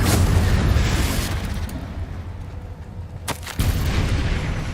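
A Confringo fire spell explodes in a wizard video game, a loud rumbling boom that opens the clip, dies down into a low roar, then a second sharp blast bursts out near the end and rumbles on.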